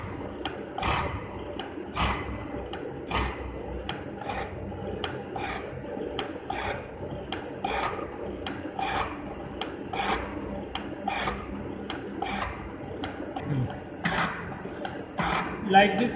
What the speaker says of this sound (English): Like this we want to do the rectangular slots in shaping machine itself